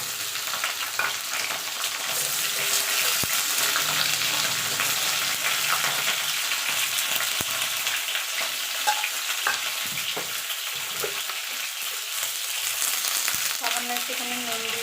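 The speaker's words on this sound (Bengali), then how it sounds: "আমি তুললাম না, আলুর মধ্যে পটলটা দিয়ে দিলাম।" Pointed gourd (potol) and potatoes frying in oil in a pan, a steady close sizzle that runs throughout with occasional scraping stirs and small pops.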